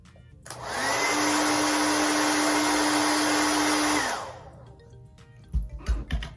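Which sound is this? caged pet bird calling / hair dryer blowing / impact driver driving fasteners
hair dryer blowing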